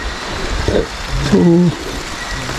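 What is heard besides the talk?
heavy rain falling outdoors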